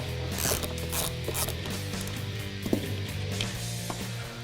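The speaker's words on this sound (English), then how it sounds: "With an 8mm socket, we're going to remove the factory blow-off valve from the factory intercooler." An 8mm socket on a ratchet removes the factory blow-off valve from the factory intercooler of a 2011-2014 Ford F-150 3.5L EcoBoost, giving close, steady mechanical ratcheting clicks and rubbing without speech.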